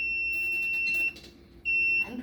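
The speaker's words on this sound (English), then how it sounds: "I'm putting something close to the ultrasonic sensor to make the alarm go off" A homemade Raspberry Pi house alarm triggered by an ultrasonic sensor sounds loud, steady electronic beeps in two long tones separated by a short pause, nearby and alone.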